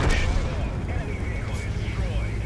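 Artillery fire in the tank game World of Tanks, a dense rumbling boom with low-end blasts layered under constant battle noise and someone speaking throughout.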